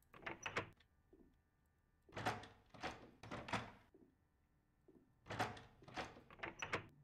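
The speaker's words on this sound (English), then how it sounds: "I didn't actually expect the door to open." Repeated sliding, rumbling door movements in a game scene with mannequins, arriving in loud grouped bursts of scraping and thudding separated by near-quiet gaps with a faint steady hum.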